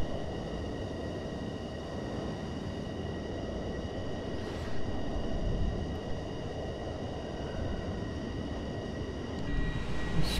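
Steady loud roar inside an F-15 fighter jet as the landing gear and flaps are lowered, a dense broadband rumble with constant high whine tones and a brief swell midway, continuous throughout with no speech.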